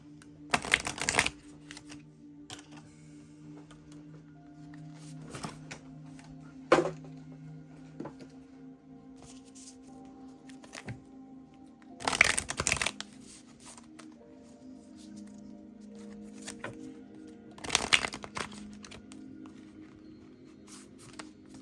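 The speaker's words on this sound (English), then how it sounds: "I'm going to go ahead and pull another oracle card." Oracle cards being shuffled and pulled, with three sharp riffling bursts spaced several seconds apart and softer handling in between, all close and fairly quiet with no talking.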